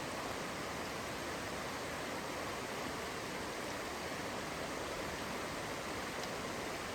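Sweet Creek in the Siuslaw National Forest, Oregon, flowing on the approach to Sweet Creek Falls: a loud, continuous broadband rush of water, steady and close without pause, with no voices.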